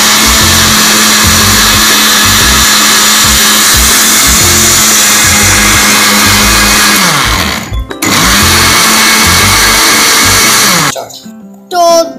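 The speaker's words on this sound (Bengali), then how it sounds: "এখন আমি এখন আবারও ব্লেন্ড করছি বিট লবণ মেশানোর জন্য।" Malta orange juice with black salt whirring in an electric blender, a loud close continuous motor roar that dips briefly, resumes, then cuts off near the end as the machine winds down.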